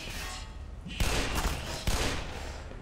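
Soldiers fire on the player in Black Mesa, with a steady rattle of gunfire building to two loud, close bursts over an ongoing noisy firefight.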